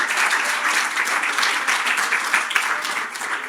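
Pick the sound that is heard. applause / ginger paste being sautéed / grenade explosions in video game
applause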